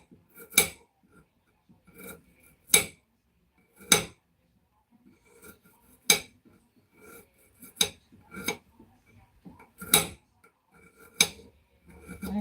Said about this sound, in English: And I'm also chopping some garlic to stuff inside the fish.